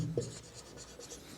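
Marker or chalk scratches across a classroom board in short strokes during an English grammar lesson, faint and close, with no speech over it.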